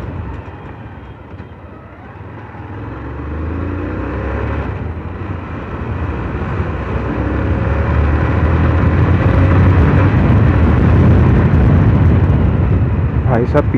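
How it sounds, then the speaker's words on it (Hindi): A Yamaha R15 v2 motorcycle with a freshly adjusted chain tensioner being ridden on the road: a steady engine and wind roar that grows louder and heavier about halfway through, continuing without a break. "चेन टेंशनर की वजह से आवाज तो सही हो गया गाड़ी का।"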